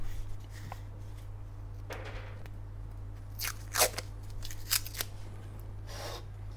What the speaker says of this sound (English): I think I'm also going to use a little bit of tape.